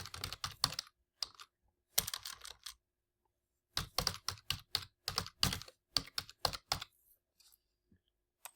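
Keys clatter on a computer keyboard as an email address is typed, in quick bursts of close, crisp clicks separated by brief pauses, with no talking.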